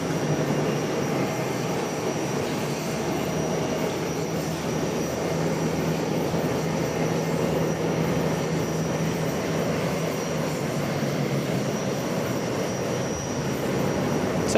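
A Lufthansa airliner taxis into the gate at Charlotte airport, a steady, loud roar of engine whine and broadband rumble that holds evenly throughout with no break.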